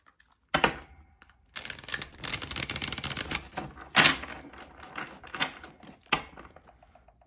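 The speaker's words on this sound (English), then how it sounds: "I'll just shuffle it one more time." A deck of tarot cards is shuffled by hand, a burst of riffling and rapid flicking clicks that comes in uneven waves, close and crisp, with brief pauses between passes.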